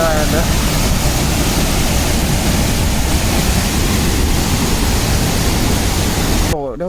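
Steady close roar of the Urumbikara waterfall, a thick unbroken rush of water filling the whole stretch before cutting off abruptly near the end.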